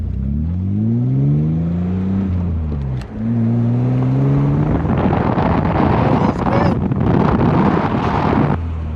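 A Nissan 200SX S12 with a V6 engine drives along, its rising engine harmonics climbing through gear changes, then giving way to loud, rushing road and wind noise; a voice speaks briefly over it.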